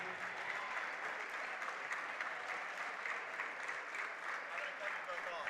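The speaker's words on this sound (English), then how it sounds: "Let's have a nice round of applause for both teams." Crowd at a boys varsity high school basketball game claps for both teams, a sustained, even roar of applause throughout, with faint voices mixed into the wash.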